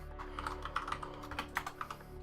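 Rapid clattering keystrokes on a computer keyboard, an irregular burst of close, crisp taps with a few louder clicks, heard alone with no talking.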